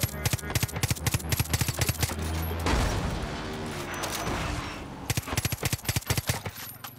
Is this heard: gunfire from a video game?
yes